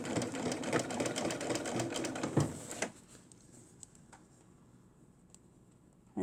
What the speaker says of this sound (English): And then I sew down here.